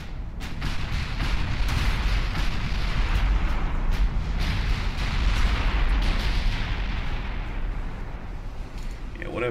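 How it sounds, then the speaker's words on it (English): Heavy naval gunfire from 9-inch guns in the warship battle game Ultimate Admiral Dreadnoughts, a dense continuous rumble of overlapping booms and blasts that stays loud throughout. "Oh, the 9-inch guns have opened up now."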